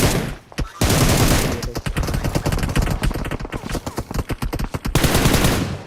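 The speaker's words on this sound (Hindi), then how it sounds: "मेरे पे फायर आता है" Rapid automatic gunfire in a shooter video game, dense bursts of loud cracks with short gaps, continuous across the whole stretch.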